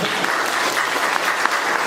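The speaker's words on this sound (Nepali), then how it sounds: "ताली बजाइदिनुहोस् न।" Congregation applause during a church sermon, dense continuous clapping from many hands, steady and fairly loud for the full stretch.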